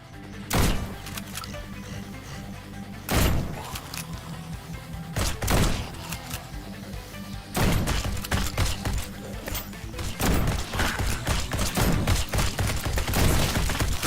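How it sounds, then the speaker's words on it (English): Incendiary shotgun ammo fired in the video game GROSS: loud, sharp blasts ring out, a few widely spaced shots early, then denser, rapid bursts of gunfire crowding the final seconds, with no talking. "Let's try incendiary ammo a little bit."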